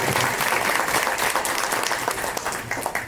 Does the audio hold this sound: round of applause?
yes